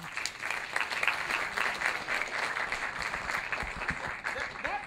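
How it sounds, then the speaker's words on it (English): Audience applause at a business conference session on access to capital, a steady wash of many clapping hands held at even strength throughout with some faint voices mixed in. "That round of applause, in my opinion, was a bit lame for the amount of knowledge we just got."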